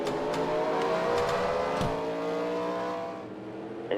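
A race car in a racing video game pulls out of pit road, its engine droning steadily and fairly loud, with a slight pitch shift as it passes and fades a little at the end.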